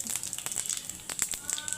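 Bay leaves and whole garam masala sizzle faintly in hot oil for a moong dal with fish head, giving soft, irregular crackles and pops.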